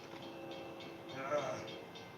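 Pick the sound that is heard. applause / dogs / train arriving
train arriving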